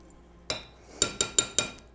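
A whisk clinks against a bowl while yogurt and peanut butter are mixed, giving a single tap followed by four quick, bright metallic strikes in a short rhythmic run, close and clear.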